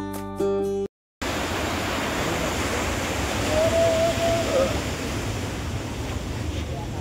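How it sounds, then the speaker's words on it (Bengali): Strong high-tide sea waves at Digha Udaypur beach make a continuous broad roar and wash that swells slightly midway, after a brief burst of music and a short silence at the start. "প্রচন্ড ঢেউ চলছে"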